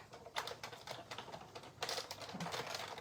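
A die-cutting machine runs a paper shape through, making soft, rapid clicking and grinding sounds that rise slightly partway through, faint and close.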